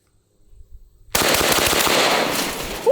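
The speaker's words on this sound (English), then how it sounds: "I assume this shotgun was built for speed, so I want to see how fast we can shoot it." A Jerry Miculek 940 Pro semi-automatic shotgun fired in a rapid, continuous string of loud close shots after a brief quiet moment, the reports blurring into a dense roaring burst.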